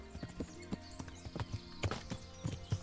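Hooves of a grey horse walking in the video game Kingdom Come: Deliverance, a steady, slightly uneven clip-clop of soft thuds at a relaxed walking pace, close and moderately quiet with no talking.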